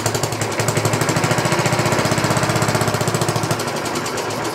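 Small lawn mower engine running after pull-cord starts, a loud, close, steady rapid chugging putter throughout, with no talk.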